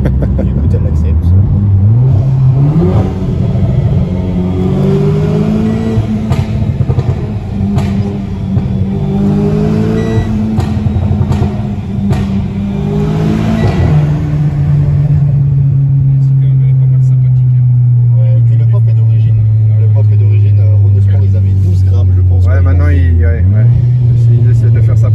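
A Renault Clio 4 RS driven hard, its engine loud and close from inside, rising and falling through revs with gear changes, then a long steady drone that dips and climbs again, with people talking over it.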